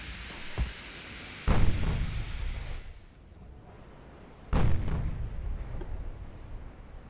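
Two heavy, booming blasts from a battleship's secondary guns in a naval warfare game, each a deep roar that rumbles and fades over a couple of seconds, with quieter distant thuds earlier.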